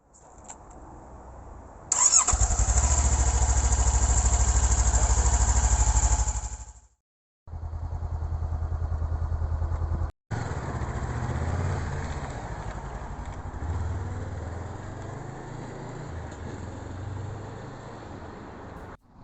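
A Honda CBR 500R motorcycle starts loudly and runs close by with a steady engine note, cuts out briefly, then idles and runs again, with a squealing high tone throughout the start-up.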